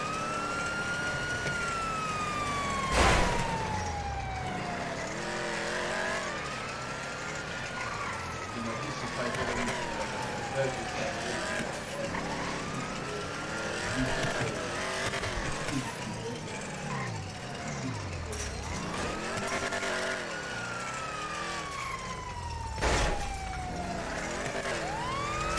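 A police siren wails and sweeps up and down continuously during a car chase in the GTA V video game, with an engine droning underneath and a couple of sharp knocks.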